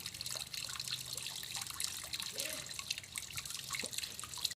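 Water from a hose pipe sprays onto fine netting to rinse daphnia (moina water fleas), a steady hissing wash with scattered drips and splashes throughout, close and moderately loud with no talking.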